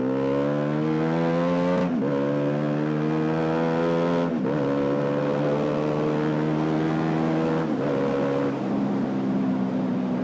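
A Bajaj Pulsar motorcycle with a quickshifter revs steadily and loudly up close, its engine note dropping sharply at about three quick gear changes.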